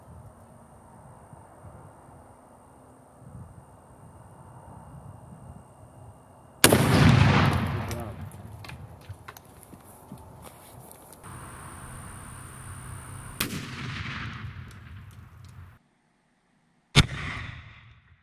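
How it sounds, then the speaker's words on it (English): A sudden loud grenade blast erupts after a stretch of low rumble from the burning fuse, followed by a long noisy decay, a brief silence, then a second sharp bang near the end. "The rest will cut to the explosion."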